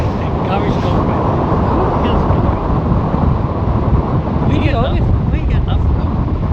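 Strong wind at night on Cambois Beach in Northumberland during sea fishing, a constant loud roar and buffeting against the microphone throughout, with voices faintly audible beneath it.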